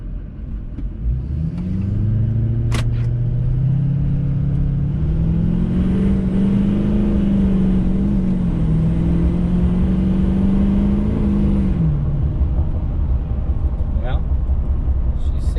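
A truck fitted with a DSP5 switch accelerates up a highway on-ramp, its engine rising in a sustained mid-pitched rev and rumble from inside the cab, then easing off.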